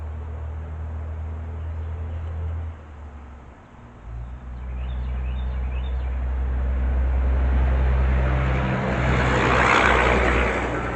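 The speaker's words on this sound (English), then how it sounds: "That was a tractor and trailer." A tractor-trailer truck passes by outdoors beside someone balancing a tire, a low engine drone that swells and fades over several seconds, rising into a broad loud rush of road noise toward the end.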